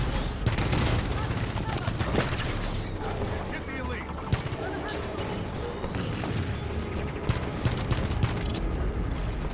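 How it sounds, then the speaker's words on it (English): Dense, loud video game gunfire from Halo 5: Guardians, a weapon fired in bursts amid a constant clatter of combat effects, explosions and mechanical noise throughout, with a voice talking over it. "Kind of burst firing that weapon there."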